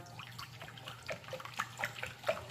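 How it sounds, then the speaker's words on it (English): Soda glugging and trickling as it is poured from a 2-liter bottle into a Ninja Slushi machine, a steady, close liquid stream with bubbly splashes, no talking. "I'm not measuring this out. I'm just going to pour."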